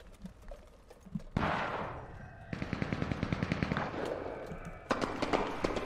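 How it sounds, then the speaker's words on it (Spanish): Gunfire in the battle royale video game Cuisine Royale: a sudden loud burst followed by rapid automatic shots in a quick rhythm, then another sharp volley near the end. "¿Escuchaste esos tiros, chabón?"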